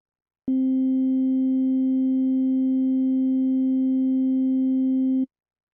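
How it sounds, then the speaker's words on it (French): Steady organ tone from a tone wheel waveform, a pure sine with a slight second harmonic, holding one pitch evenly for about five seconds, alone and with no other sound. "La forme d'onde tone wheel vise à recréer le son que peut produire une roue phonique, c'est-à-dire une sinusoïdale avec un léger second harmonique."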